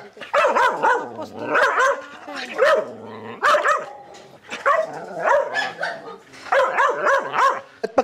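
A dominant dog barks and yelps repeatedly while being put on a leash, loud and close, in rapid rhythmic bursts with whimpering and yipping between barks.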